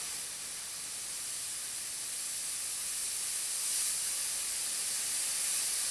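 An airbrush sprays paint onto plastic sealed with white Alclad primer, giving a steady, close, airy hiss that runs unbroken throughout and swells slightly toward the end, with no voices.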